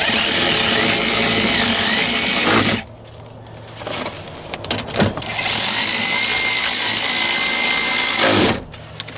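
Power ratchet wrench used on a Chevy window regulator job, whirring loudly in two sustained runs separated by a quieter pause with some clicks and handling noise.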